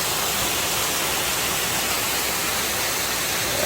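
A waterfall on Jeju Island pours in a steady, dense rushing roar, loud and unbroken with no voices, like constant hissing white water.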